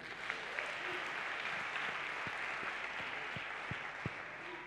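A church congregation claps and cheers for Jesus during a Sunday worship service, a steady wash of applause with sharp individual claps popping out, filling the hall without any talk.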